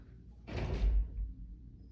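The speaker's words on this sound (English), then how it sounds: "I'm gonna have to open the door because otherwise he's not gonna stop." A house door is opened to let a cat in, a soft, close scrape and low thud lasting about a second against an otherwise quiet room.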